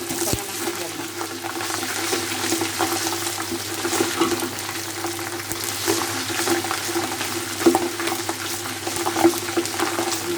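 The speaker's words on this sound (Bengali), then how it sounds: "আদাটা তেলের মধ্যে টকবক করে ফুটতেছে।" Ginger bubbling and sizzling in hot oil in a pot while pilau is being made; a continuous close crackle over a low steady hum, with occasional louder pops.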